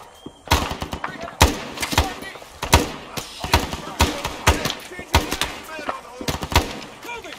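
Rapid bursts of gunfire in the ARMA 3 SOG war game crack out in irregular clusters of sharp, loud reports, with brief gaps between volleys.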